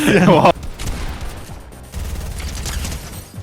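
Bursts of rapid gunfire from the Fortnite video game rattle in close succession, loud and dense, after a brief loud voice at the start.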